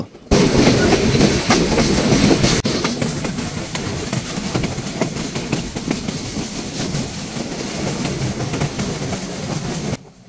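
A Dhumketu Express passenger train on the Rajshahi to Dhaka route runs steadily along the rails at dawn, a loud continuous rumble with rattling carriages and clickety-clack wheel beats, close and sustained throughout with no talk.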